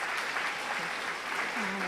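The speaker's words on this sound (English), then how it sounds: "Give her a round of applause." Brief applause from a gathered audience at a community event honoring a woman, steady clapping throughout with voices and murmuring layered over it.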